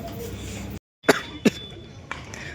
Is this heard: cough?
yes